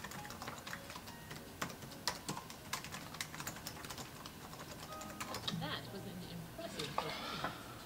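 Rapid keystrokes on a computer keyboard during a timed typing test, retyping the same passage; a steady close clatter of key presses runs throughout, with a voice speaking over it.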